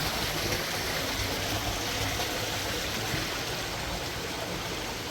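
Stream water rushes through a rocky gorge at Burn o' Vat, a constant broadband roar of flowing water, close and steady with no pauses.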